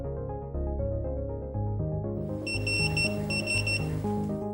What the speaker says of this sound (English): Two beeps indicate login succeeds.